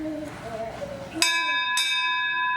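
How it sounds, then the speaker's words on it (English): A small handbell rung to summon someone, two clear bright strikes about half a second apart that ring on and decay, following a brief stretch of talk. "It must be the bell they ring for Peter."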